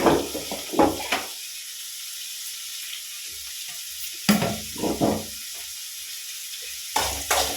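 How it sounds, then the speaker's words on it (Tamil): Garlic cloves and rock salt sautéing on low heat in a pan, with short bursts of sizzling and stirring scrapes separated by quiet gaps, close and fairly faint. "இது சிம்மில் இருந்து வதங்கட்டும்."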